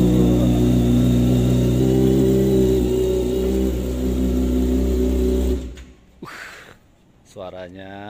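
A Kawasaki ZX25R motorcycle's aftermarket exhaust drones and revs loudly with a deep, throaty rumble for several seconds, then cuts off as a person starts talking.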